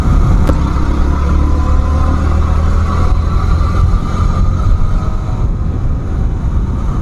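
Yamaha R15 motorcycle on the move, a steady low engine drone blended with constant rushing wind buffeting the microphone, loud and continuous with no voices.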